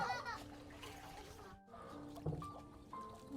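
Water splashes and sloshes softly as food is rinsed clean by hand, a few brief quiet splashes mixed with nearby people talking.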